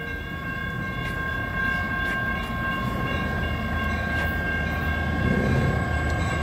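A Caltrain F40PH diesel locomotive train passes steadily and loudly through Redwood City on a hot day, with a sustained engine drone, rumbling wheels and faint clatter.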